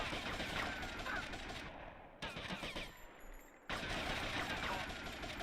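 Gunfire from enemies in Grand Theft Auto Vice City, loud rapid machine-gun bursts that cut out in two short pauses before resuming, scattered shots overlapping.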